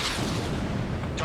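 Explosion of a destroyed enemy target in the Ace Combat 7 jet combat video game, a dense low rumbling boom filling the short moment at steady loudness.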